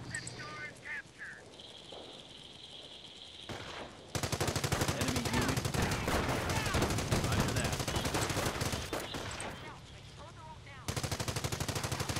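MG42 machine gun fire in the Company of Heroes game, long loud continuous rattling bursts dominating the mix, with a pause and then another sustained burst, alongside other battle noise and a talking voice early on.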